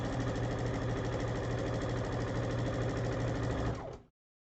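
A sewing machine stitches rows of non-directional fabric, a close continuous mechanical hum with a rapid rhythmic needle chatter that holds steady and then stops abruptly.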